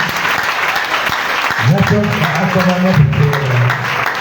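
A church congregation applauding, with steady dense clapping that continues throughout, loud and close, and a voice speaking or singing over it in the second half.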